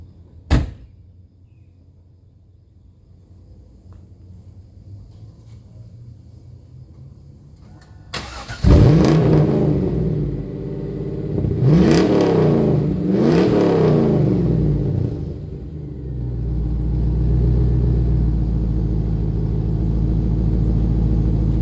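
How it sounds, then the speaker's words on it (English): A 2000 Chevy Camaro SS V8 cold starts after a quiet stretch with a sharp click: the starter cranks briefly, the engine catches with a loud roar and two quick revs, then settles into a loud, steady high idle. "Let's get a cold start."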